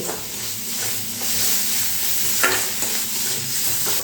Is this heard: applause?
no